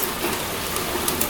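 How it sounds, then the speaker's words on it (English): Heavy rain during a thunderstorm makes a dense, loud, even hiss of falling water, steady and close with a few sharper drops. "there is a crazy storm going on right now. There is so much wind and so much rain and lightning and thunder"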